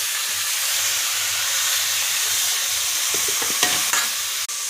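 Dried fish and shallots frying in a pan, with a steady hissing sizzle, a low rhythmic scraping as they are stirred, and a few sharp clinks near the end, close by and with no speech.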